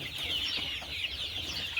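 Village chickens cluck and chatter in a shed, a continuous close chorus of overlapping bird calls with no pauses.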